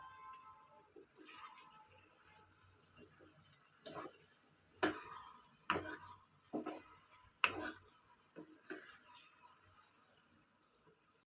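Manchurian balls dropped into hot oil, a low bubbling fry punctuated by irregular sharp clicks and clatters from a spoon or ladle against the pan.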